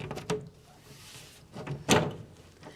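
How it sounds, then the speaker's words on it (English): An oven door is fitted back into place with a couple of soft knocks and clunks, the loudest thud coming near the end, set against quiet kitchen room noise. "And then we'll put our door on."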